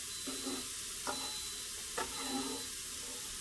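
Vegetables for Brunswick stew sizzle quietly in a pan, a steady faint frying hiss with a few soft scrapes or stirs at intervals, with no voices.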